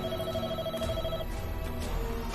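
A landline telephone rings with a repeating electronic trill over low background music, moderately loud, then fades as the scene carries on.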